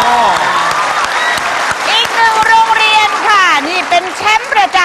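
A packed crowd of school cheering squads in Uttaradit roars and shouts loudly, mixing whooping voices and clapping into a dense, close wall of cheering that holds steady throughout.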